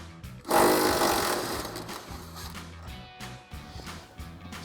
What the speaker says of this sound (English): going to go ahead and use our 19 mil socket on our impact to remove our forward body mounting bolt